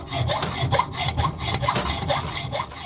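Rhythmic back-and-forth strokes of a hacksaw rasping through metal, steady and close, about a stroke every half second with no talking.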